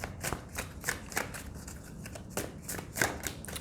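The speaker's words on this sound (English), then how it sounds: "Shuffle it just a few more times." Tarot cards being shuffled by hand, a run of quick crisp riffling snaps in irregular bursts, close and fairly quiet with no talk.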